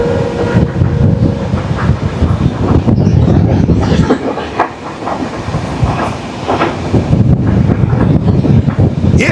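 The Kanchan Kanya Express crosses a river bridge in a loud, continuous rumble with clattering wheels and heavy wind buffeting the microphone, heard from inside the moving train.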